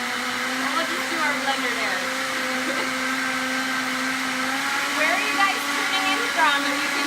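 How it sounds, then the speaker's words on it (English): A blender runs on high whipping strawberry chocolate mousse, a steady loud motor whine with a constant hum and slight pitch wobble, continuous for several seconds with no talk over it. "let it blend on high for about 1 minute"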